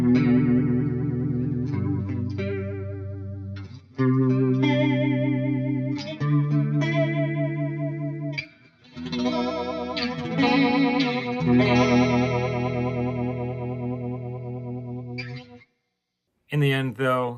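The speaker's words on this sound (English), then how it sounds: "With the rate cranked up on the flanger, you can get some Leslie type effects as well." A TC Electronic SCF stereo chorus flanger pedal with its flanger rate turned high, giving a fast swirling Leslie-like warble over sustained electric guitar chords, loud and continuous with short gaps before a brief pause near the end.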